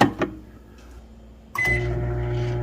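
A microwave oven cooking three strips of bacon gives a few short button clicks, then starts up with a close, steady electric hum that continues evenly.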